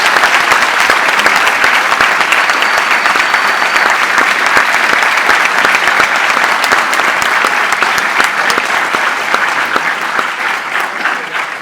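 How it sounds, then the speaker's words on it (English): A large lecture audience at Purdue claps loudly and continuously to welcome speaker Norman Finkelstein, a thick wash of applause that holds steady throughout with only slight easing toward the end. "please give a round of applause to Norman Finkelstein"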